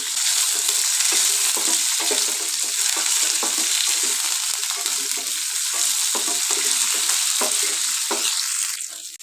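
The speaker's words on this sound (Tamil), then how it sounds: "எல்லாம் நல்லா வதக்கிடலாம்." Shallots, ginger and curry leaves sautéing in a hot pan for a Karnataka-style tomato bath, giving a steady loud sizzle with repeated stirring scrapes and no talk.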